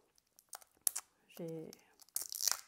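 Paper wrapping on an unboxed package crinkles and tears in short bursts as scissors cut through it, with a brief voiced sound in the middle and close, sharp rustling at the end.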